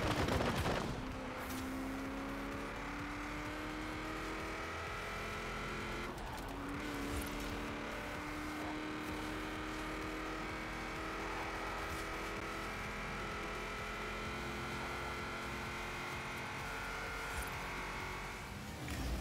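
Cars racing in the Forza Horizon video game, steady engine drone with rising and falling revs and gear shifts, continuous and loud throughout with no talking.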